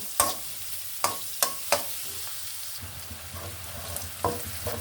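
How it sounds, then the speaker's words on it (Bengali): Green chillies fry with chopped onion in a pan, a steady close sizzle broken by several sharp spatula knocks and stirring scrapes. "এখানে দিয়ে দিচ্ছি বেশ কিছু কাঁচামরিচ সেটা একটু ভেজে নিব"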